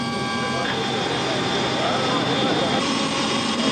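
Three Antonov transport planes taking off one after another to ferry rally cars, trucks, bikes and helicopters to Libya; a steady, loud jet engine roar with a high whine runs throughout while a voice talks over it.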